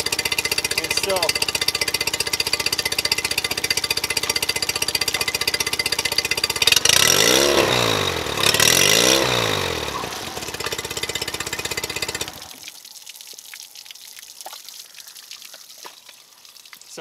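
A Mercury 9.9 four-stroke outboard runs with its trim raised, giving a loud, steady mechanical clatter with water splashing. It swells briefly midway, then cuts to a much quieter tail of faint noises.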